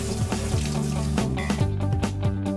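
A T&S Brass 5PR-8W12 wall-mounted pre-rinse spray faucet runs water in a steady, close, loud rush, with clatter against a sink throughout.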